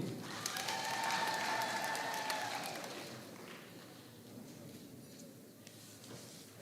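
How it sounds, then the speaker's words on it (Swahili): Audience applause at a tenth-anniversary parish celebration, a broad crackling wash of many hands that swells in the first few seconds, then thins and fades into quieter scattered clapping; faint tonal sounds drift through early on. "watu wapigie makofi"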